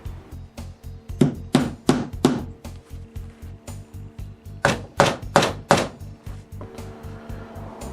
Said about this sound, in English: you take some nails and you nail at the points